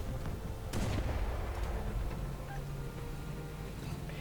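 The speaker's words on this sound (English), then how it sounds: "only one shell from my 122mm cannon was enough to finish it off" A 122mm cannon on a T-10A heavy tank fires in War Thunder, giving one sharp, loud boom early on. A low rumble of battle and engine noise continues beneath it and afterward.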